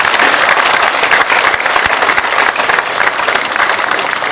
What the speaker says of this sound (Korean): 박수로서 환영해 주시면 대단히 고맙겠습니다